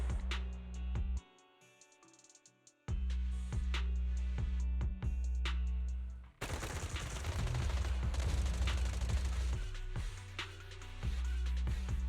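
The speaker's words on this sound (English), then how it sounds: "Gunfire? This pattern. Suppressive marching fire." Suppressive marching gunfire in the video game Zenless Zone Zero: rapid bursts of automatic shots over a low droning score, briefly cut to near quiet, then returning as a dense, loud, sustained volley.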